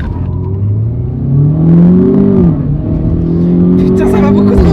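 Modified Renault Clio 4 RS launching hard in sport mode with launch control, engine note climbing steadily in pitch, loud and close, with a brief dip at a gear change before pulling up again.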